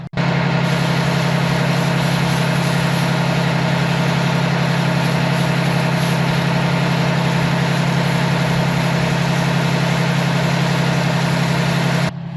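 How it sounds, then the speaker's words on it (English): An air compressor runs while building pressure in its tank, a loud, steady, droning motor hum with constant mechanical whir, starting abruptly and stopping after about twelve seconds. "I'm letting the air compressor build up some air in the tank"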